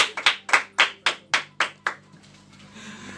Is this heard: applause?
yes